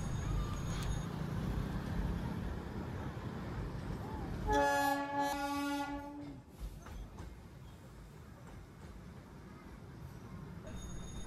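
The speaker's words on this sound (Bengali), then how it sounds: "নিচে টয় ট্রেন একটা বাঁক নিচ্ছে।" The Darjeeling toy train rounds a bend below the hillside and sounds a sustained whistle for about two seconds. It cuts through a low outdoor rumble, then quieter ambience follows.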